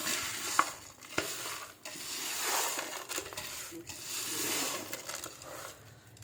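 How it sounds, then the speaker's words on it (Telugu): A spoon works through chicken biryani rice in a pot with soft scraping and shuffling strokes, a couple of sharp knocks against the pot early on, and a faint sizzle underneath. "బాగా కలుపుకోవాలి"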